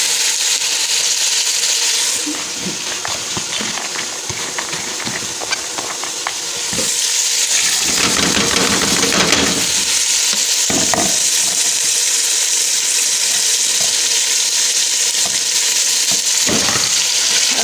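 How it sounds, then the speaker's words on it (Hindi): Chana dal and chopped bottle gourd sautéed in a pan for lauki chana dal: a loud, steady sizzle and frying hiss with repeated spatula scrapes and stirring strokes, which grows fuller partway through and carries on without voices. "अब इसको मैं अच्छी तरीके से भून लूँगी।"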